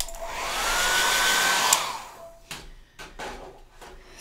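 A hair dryer drying a watercolor painting blows in a steady close whoosh for about two seconds and then cuts off, followed by a few faint knocks and taps.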